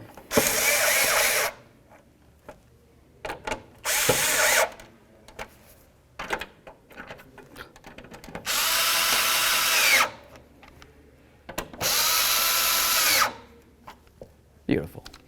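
A power driver runs screws into a 1992-99 GMC K1500 headlight assembly in four loud whirring bursts of about one to two seconds each, with quieter handling, clicks and a voice in the pauses.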